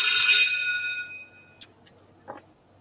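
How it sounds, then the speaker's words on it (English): A single bell is struck once, ringing out loud with a bright tone that fades away over about a second, like an old school bell. Two faint, brief clinks follow in the quiet afterward. "I love that bell. It's like the old school bell from like Saved by the Bell"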